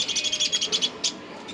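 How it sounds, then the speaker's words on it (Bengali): Baby cockatiels make a rapid series of high, raspy begging chirps in a cage among birds for sale, close and steady, then a brief louder call and a softer one. "এই দুইটা হচ্ছে কোকাটেলের বেবি,"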